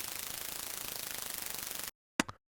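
White noise synthesized in Vital with the filter off, pulsing rapidly and evenly in level under an LFO, harsh and bright for about two seconds before cutting off, then a couple of brief clicks.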